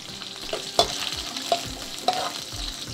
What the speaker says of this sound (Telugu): నేను బాదం పప్పు, కాజు, కిస్మిస్ వేసుకుంటున్నాను.